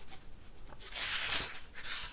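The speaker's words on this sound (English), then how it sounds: "Page turning is also one of my favourite triggers." Sheets of paper being turned and rustled up close, a soft crinkling swish that swells and fades in a few slow sweeps, alone without talk.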